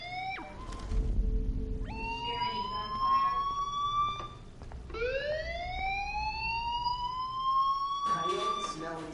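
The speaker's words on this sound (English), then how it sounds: "Hey, do you hear that fire alarm?" A fire alarm in a video game wails in repeated rising sweeps, steady and moderately loud, over a low background hum.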